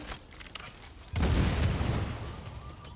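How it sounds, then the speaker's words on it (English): A big explosion in the video game The Division lands suddenly after a quiet stretch, a deep booming blast whose rumble stays loud and then slowly fades over a couple of seconds. "That was a very big explosion."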